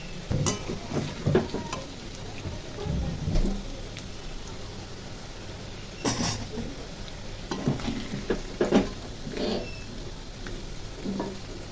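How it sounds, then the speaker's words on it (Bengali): Soya chunks crackle and sizzle in hot oil in a pan, a busy spattering texture with a few louder pops and stirring scrapes, close and steady throughout. "এই তেলের মধ্যেই আমি সয়াবিনটাকে ভেজে নেব।"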